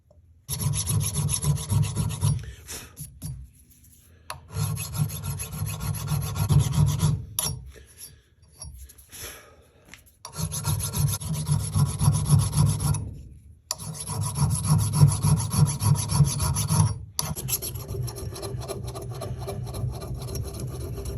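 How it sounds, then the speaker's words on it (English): A metal file rasps paint off the head of an old hatchet in long, steady back-and-forth strokes, loud and close, broken by a few brief pauses. "Just give it a quick filing to get that paint off."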